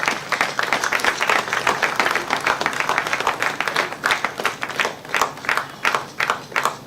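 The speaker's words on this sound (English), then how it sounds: "Another round of applause for our Chief Diplomats for a very excellent statement." An audience gives a round of applause after a diplomatic statement, many hands clapping in a steady, pulsing wave at moderate volume with no talk over it.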